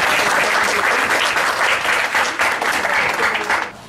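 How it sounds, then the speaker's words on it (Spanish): Steady, loud applause from an audience at the inauguration of a health centre in Santo Domingo, a dense wash of clapping that holds evenly for several seconds and then tapers off. "Un fuerte aplauso para todas las mujeres."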